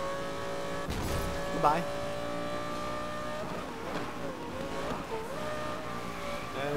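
Audi R8 GT Spyder engine in the Need for Speed Most Wanted racing game, a steady high-revving drone with shifting pitch and a brief tire squeal, under someone talking excitedly.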